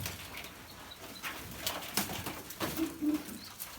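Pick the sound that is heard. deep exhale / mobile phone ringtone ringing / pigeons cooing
pigeons cooing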